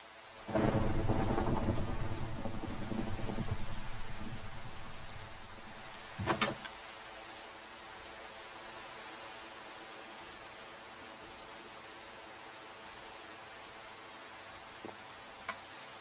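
Thunderstorm with rain in the video game Minecraft: a long rolling rumble of thunder opens, a sharper crack follows a few seconds later, and a steady hiss of rainfall continues throughout.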